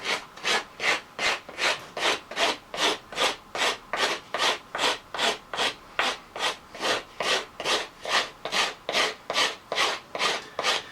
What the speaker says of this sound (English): take your rasp and cut that smiley face into that piece of wood